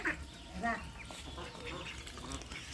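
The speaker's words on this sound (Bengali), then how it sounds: "এই হাঁসটা যে দেখতে পারতেছাও সেটা হচ্ছে ব্রয়লার হাঁস" Broiler ducks on a village homestead give a few short, nasal quacks near the start, faint and close, then fade into a low murmur of background noise and quiet talk.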